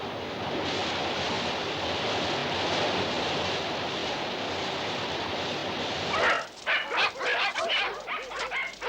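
Dogs barking near a steep drop: a steady roar like surf or rushing wind fills the first six seconds, then gives way to a quick series of close, sharp barks and yips.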